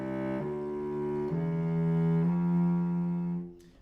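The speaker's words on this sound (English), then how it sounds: "But if I were to mark a legato marking here and essentially slur them" Four cello notes are slurred legato in a single bow, each pitch change connected smoothly with no break in the sustained tone, solo and close, in a beginner lesson, fading out at the end.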